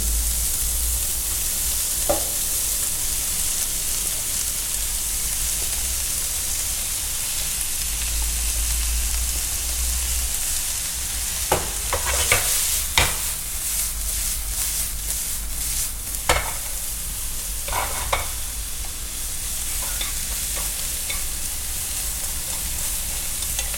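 Mushrooms fry in a pan with garlic and soy sauce, giving a steady close sizzle throughout with occasional sharper crackles and pops in the second half, no voices.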